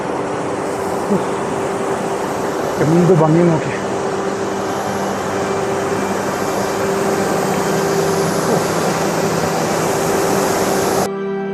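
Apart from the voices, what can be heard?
waterfall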